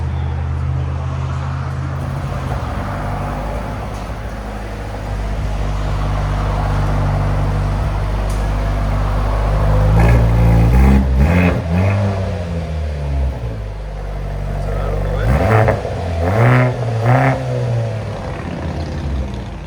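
A 2023 Mercedes C43 AMG hybrid with turbo and resonator deleted, idling low then revving in several short blips, its deep exhaust note rising and falling close by with no talk.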